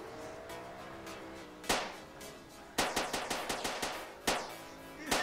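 Video game gunfire during a police pursuit and gunfight: sharp single shots, then a rapid volley of repeated bursts with another loud shot near the end, over a steady background of game engine or ambient noise.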